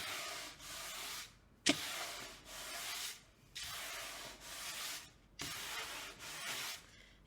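Power sander distressing wood for a rustic weathered porch sign, heard as repeated loud rasping passes of a few seconds each with short gaps and one sharp knock.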